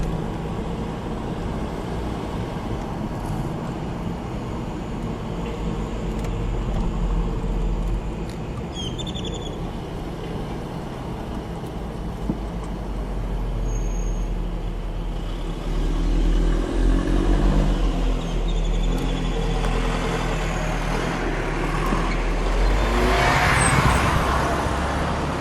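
An oversized 1942 Willys MB jeep engine runs steadily with a low, continuous rumble, rising in intensity partway through, while birds chirp faintly in the background.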